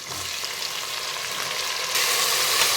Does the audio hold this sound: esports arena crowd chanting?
no